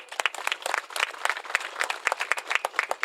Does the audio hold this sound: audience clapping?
yes